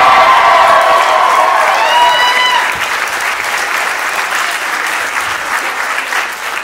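Audience applauding comedian Nate Jackson at a live crowd-work comedy show, a sustained roar of dense clapping with whoops and shouts early on, steady and loud throughout.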